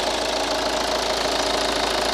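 A 2012 Hyundai Santa Fe's 2.2-litre chain-driven diesel engine idles close by with a steady, knocking clatter and low mechanical hum.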